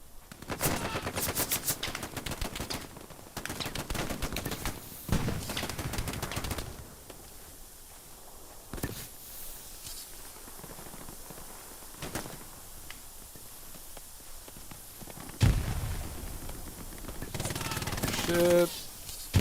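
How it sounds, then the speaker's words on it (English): German machine gun firing in the World War II shooter game Hell Let Loose, loud rapid bursts in the opening seconds, then scattered shots and quieter stretches with footsteps and a voice in between. "That is definitely a German machine gun."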